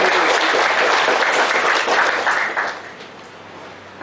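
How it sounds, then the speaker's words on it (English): Student audience at an event giving a chief guest a round of applause, dense steady clapping close by that fades down in the final second. "Big round of applause for sir for accepting our invitation"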